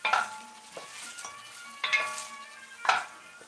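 Food stirred in a pot while cooking a spicy pumpkin chicken soup, with a soft, steady sizzle and a few louder scraping, clattering stirs.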